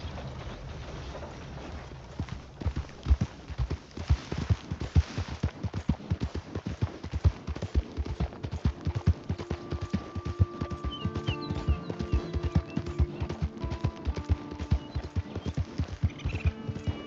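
Horse hooves clip-clopping steadily in the video game Red Dead Redemption 2, a fast, even rhythm of close, distinct hoof strikes over a soft background that runs throughout.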